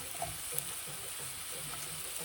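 Onions frying in a pan while chicken pasta is cooked make a soft, steady sizzle with faint stirring scrapes and a small clink partway through. Nobody speaks.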